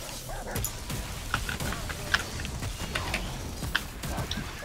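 A dog companion attacks in the action video game Remnant: From the Ashes, with repeated snarls, yips and growls mixed with clattering combat effects. The sounds are loud and busy throughout, with no talk in the clip.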